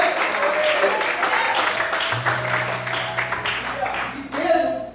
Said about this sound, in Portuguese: Só pode aplaudir aqui.